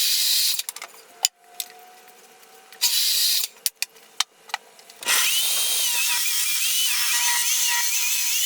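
A power tool cuts wood pieces for a table apron, with several short bursts of loud whining followed by a long sustained cut running steadily to the end, alone without talk.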